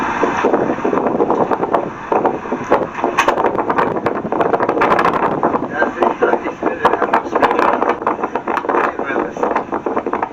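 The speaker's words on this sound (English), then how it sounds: "That wind was whipping a little bit." Strong wind buffets the microphone outdoors on a trip in New Orleans, a loud and steady roar with gusty rumbling that runs through the whole stretch, while people talk under it.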